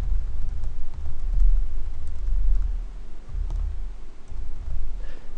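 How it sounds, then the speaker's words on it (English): Keys clatter on a computer keyboard as code is entered in the Eclipse IDE. The tapping is quiet and steady and sits over a low background rumble. "I will type in my definition for main."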